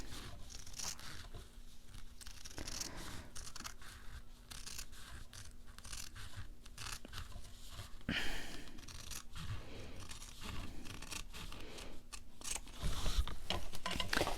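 Quiet, close snipping and rustling as scissors work through fabric, with soft crinkles and slides between cuts.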